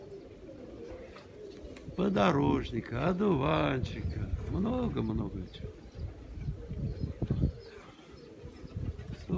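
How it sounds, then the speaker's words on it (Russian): Pigeons cooing while feeding, soft repeated throaty coos close by, mixed with someone talking over them. "Вот голуби кушают."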